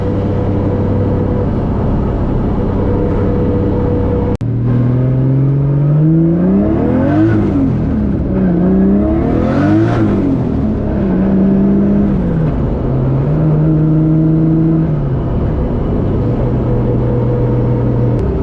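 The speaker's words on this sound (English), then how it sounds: "That diff sure is getting awfully noisy." A steady engine drone from a Nissan S14 with a noisy differential, a rising and falling whine under load, continuous road noise throughout, close and loud.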